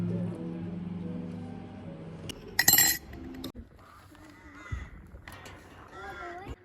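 Crows caw outdoors in a snowy Russian village, a few harsh calls standing out after a low droning sound at the start, with a loud clattering burst in between.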